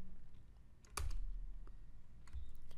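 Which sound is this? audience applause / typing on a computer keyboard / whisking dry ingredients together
typing on a computer keyboard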